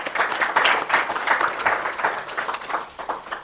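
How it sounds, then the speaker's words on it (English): A large audience at a formal address applauds, a dense, steady wash of many hands clapping that fills the whole stretch at even loudness, with no voices over it. "I would like all of you to join me in applauding their efforts."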